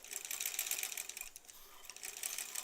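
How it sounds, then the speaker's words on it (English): Sewing machine stitching quilt scraps together in improv curved piecing, a steady fast mechanical whirring and clatter that runs close and continuous with slight surges, no talking. "I'm actually sewing something"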